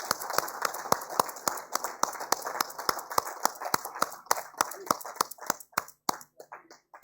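Sparse, distinct claps ring out in a sanitation awards ceremony hall, a handful of hands striking in an uneven rhythm that thins out toward the end, fairly quiet overall.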